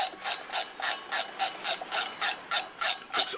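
A ratchet driving screws on the driveshaft of a 1993 Mustang GT clicks in about a dozen evenly spaced, loud, close bursts with no talking.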